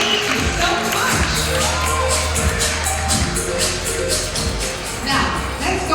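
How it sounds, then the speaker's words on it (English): Audience at a Dubai Safari bird show claps and cheers for a Palawan hornbill and its handler, dense steady applause with a few whoops running throughout. "let's give Bill another round of applause"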